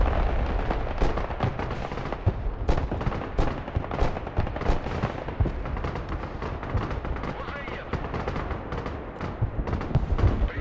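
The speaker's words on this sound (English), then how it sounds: "I'm calling in mortars." Mortar and artillery fire rumbles through the Broken Arrow war game as a dense, continuous barrage of thuds and blasts, with players talking over the noise the whole time.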